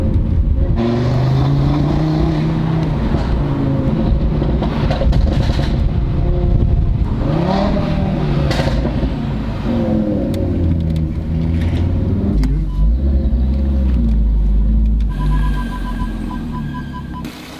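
An Audi RS3 engine with a misfire between 2,000 and 3,000 rpm revs on an industrial estate, loud and close, its pitch rising and falling through repeated throttle blips with a rough, uneven tone.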